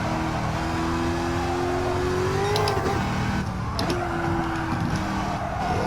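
Chevrolet C7 Corvette ZR1 engine in a racing video game, a steady droning note rising and falling through gear changes, with brief tire squeal, heard at constant level through a lap.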